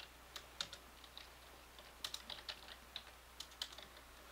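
Rapid computer keyboard typing at close range, quiet and uneven, with irregular bursts of clicky keystrokes and no voices.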